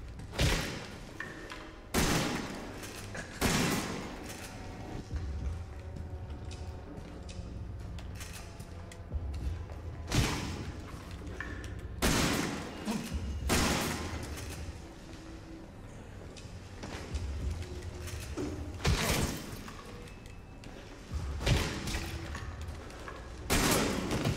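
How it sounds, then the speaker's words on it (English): Shotgun fire in Resident Evil 7 comes as a series of loud, booming blasts spaced a few seconds apart, each with a sharp attack and heavy low thump, over a dim, tense background. "Shotgun to the face"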